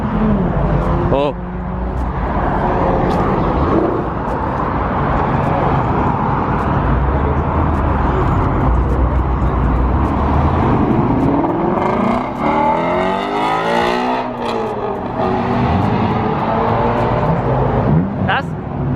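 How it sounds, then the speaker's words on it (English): A V8 muscle car at a JDM car meet revs and passes close by, its loud engine rising and falling in sweeping pitch beneath excited voices of people talking throughout. "That's the best sounding V8 muscle car in my opinion."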